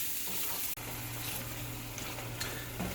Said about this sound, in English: I'm going to start out by cooking out the mushrooms